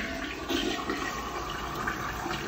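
A newly installed toilet in a house bathroom flushing, a loud close rush of water surging and swirling steadily through the bowl for the whole stretch, with no talk.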